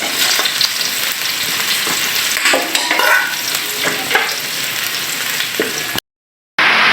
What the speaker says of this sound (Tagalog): Next, sibuyas. Yan, sangkot siya lang natin ng bahagya.